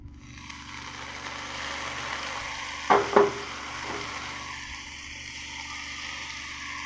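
Ground spice paste poured into a hot pan of mint-flecked gravy base, landing in two quick wet splats midway over a low, steady background sizzle that continues faintly afterward.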